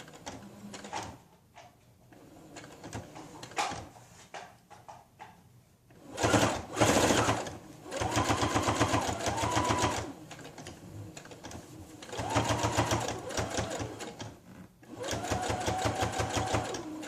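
A sewing machine stitches a seam on a GroVia hybrid cloth diaper shell during an elastic repair, whirring in steady bursts of several seconds with pauses between them, and a person talks quietly during the gaps.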